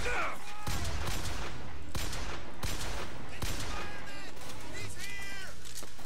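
Gunfire from shooting people in the video game BioShock Infinite, a dense burst of repeated shots and impacts over a busy game soundtrack, with people talking throughout.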